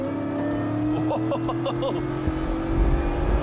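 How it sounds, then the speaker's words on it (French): A Ford Coyote V8 car engine of nearly 700 horsepower idles with a steady deep rumble, rising in a few short throttle blips, close and loud throughout. "une mécanique V8, bien sûr de Ford"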